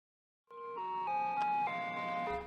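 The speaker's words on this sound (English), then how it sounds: "The sound of an ice cream truck driving through a neighborhood can be the most exciting part of any child's day." An ice cream truck's electronic jingle plays a bright, steady tune of sustained notes rolling through a neighborhood, starting abruptly after a brief silence and staying loud and clear, with no talking.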